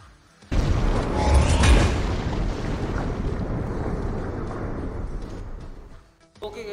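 In the Marvel Future Fight mobile game, an explosion erupts as a shield crashes down: a sudden loud blast gives way to a sustained, roaring rumble that slowly fades before cutting off abruptly.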